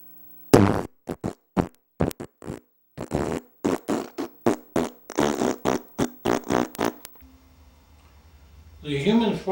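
About twenty short, loud, abrupt fart-like blasts come in a rapid irregular series, then a brief lull and a longer rough burst at the end, with no talking.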